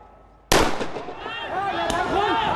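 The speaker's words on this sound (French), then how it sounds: "Il y a eu des tirs nourris et des explosions près d'un centre commercial." Heavy gunfire and explosions near a shopping centre during street clashes in Bangkok, Thailand: a sudden loud blast followed by sustained crackling noise and echoing reports, with voices in the background.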